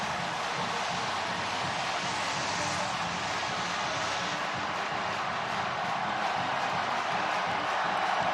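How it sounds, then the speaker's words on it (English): A packed football stadium crowd roars and boos as Ohio State takes the field against Notre Dame, a dense, sustained wash of voices with no breaks. "Ohio State to a crowd of boos."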